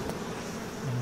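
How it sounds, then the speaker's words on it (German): Bees buzz steadily in the video game BioShock Remastered, a dense continuous drone filling the whole moment at even loudness with no talk over it. "Macht aber Sinn, dass Bienen hier sind"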